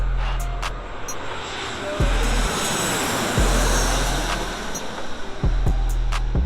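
A passenger airplane passes low overhead at Los Angeles International Airport, its engines roaring loud and steady for several seconds with rising intensity, a broad continuous rumble close above the listener.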